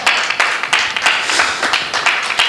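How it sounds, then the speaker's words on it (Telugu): A church congregation claps loudly in rhythm during a sermon, a full, close crowd beating out quick, fairly regular claps together, with no voices. "చప్పట్లు కొట్టండి గట్టిగా."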